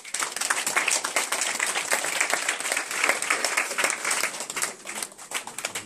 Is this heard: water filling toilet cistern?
no